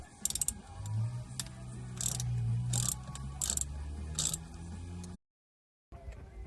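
A ratchet wrench undoes nuts on the intake manifold of an Astro van, with rapid clicking ratchet bursts and metallic clanks up close, a low engine-bay rumble underneath, and a brief silent gap before the clicking resumes.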